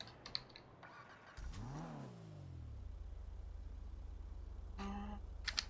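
In the GTA RP video game, a car engine starts with a rising whine, then settles into a steady low idle hum, with faint clicks and a brief burst of revving near the end.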